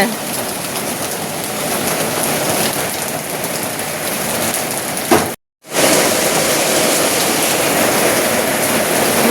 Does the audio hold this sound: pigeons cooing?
no